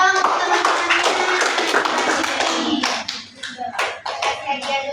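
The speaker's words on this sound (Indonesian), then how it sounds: "tepuk tangan dulu dong teman-temannya." Schoolchildren in a classroom clap their hands together in a burst of dense, overlapping applause that gradually thins into scattered claps, with some voices underneath.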